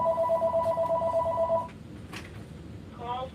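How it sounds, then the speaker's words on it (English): A telephone rings with a steady electronic warbling tone for about a second and a half, then stops, and a short second ring begins near the end, loud and close in a quiet room. "Let me get the phone."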